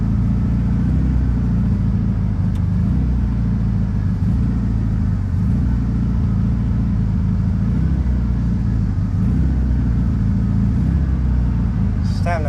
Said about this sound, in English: Just having to baby that throttle just a little bit to keep her idling.